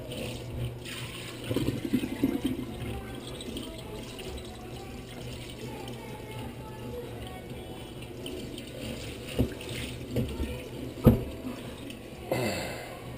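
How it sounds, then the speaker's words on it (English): Water from a tap runs steadily while a raw skate fish is rinsed thoroughly on both sides, with a few louder splashes and knocks breaking through the continuous flow. "Wash off both sides of the skate. Wash very, very thoroughly."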